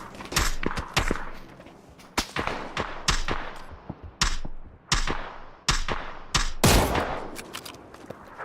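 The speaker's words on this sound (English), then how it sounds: "Oh, shooting." Gunfire in the battle-royale game PUBG, sharp loud shots cracking out singly and in quick bursts across the scene with short gaps between volleys.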